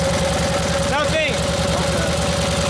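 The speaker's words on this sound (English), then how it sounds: "It's idling way too fast though." A 1952 Harley-Davidson FL Panhead motorcycle engine with a Linkert carburetor runs at a fast, steady idle, too fast, with a regular pulsing rumble, close by, while voices talk briefly over it.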